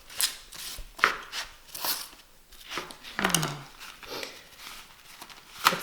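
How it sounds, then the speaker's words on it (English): Knife chopping through the hard root end of a garlic bulb on a board in a home kitchen, a series of sharp close taps and cuts spread unevenly over several seconds. "So the end of the garlic, the little hard bit, I'm just taking off, and the skins will come with it."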